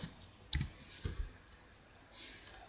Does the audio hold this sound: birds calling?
no